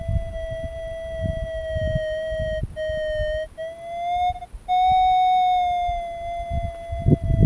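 A steady electronic target signal tone from a Minelab GPZ 7000 metal detector with a 19-inch coil, with bright harmonics, holds for several seconds, briefly dropping out twice, then rising in pitch and continuing, with faint rustling underneath.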